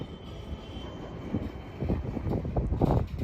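A westbound Norfolk Southern manifest freight train rumbling past at Hoover Road, a steady low roar of rolling cars that builds slightly louder toward the end, with no talking.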